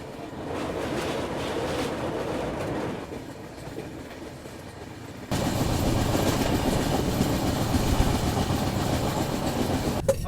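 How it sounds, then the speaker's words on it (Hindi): An Indian express train, the Vivek Express, rolls along over the Howrah–Delhi main line with a continuous rumbling drone and rail clatter heard from onboard, growing louder and fuller about halfway through. "और ये हावड़ा दिल्ली मेन लाइन के ठीक ऊपर से हमारी ट्रेन गुजर रही है"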